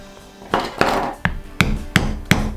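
Six sharp hammer blows strike a hole punch into leather while fitting a leather zipper pull, sounding close and loud as crisp, evenly spaced knocks with short gaps between them.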